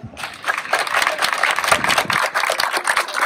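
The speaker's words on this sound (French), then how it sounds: "Attention, on va le faire à l'applaudimètre." A crowd at the reception of the Sainte-Anne troménie in Ploërmel claps steadily for an applause-meter vote, a dense, even wash of hands lasting several seconds.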